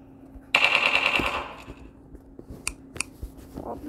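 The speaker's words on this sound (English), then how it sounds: "Mini gun." A minigun in the video game Melon Playground fires one loud, rapid rattling burst of about a second, its shots blurring into a dense buzz before fading, followed by a few scattered sharp clicks and small impacts.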